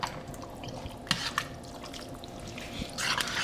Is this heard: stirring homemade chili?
yes